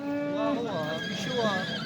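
A horse at a horse market in Nookat gives a close, wavering whinny that rises and falls over about two seconds, with a busy crowd murmur behind it.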